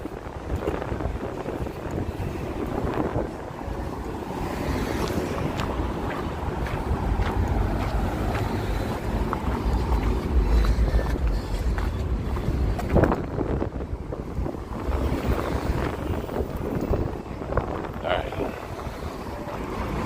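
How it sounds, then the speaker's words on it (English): Wind gusts roar steadily across a microphone on a Las Vegas street at night, a loud continuous rumble that swells and buffets, with faint talk mixed underneath. "Getting windier going in this direction."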